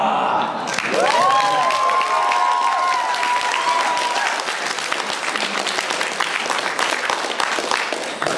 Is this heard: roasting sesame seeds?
no